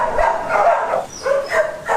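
A dog barks in short bursts, several rough barks close by, followed by whimpering yips, fairly loud, with no one talking over it.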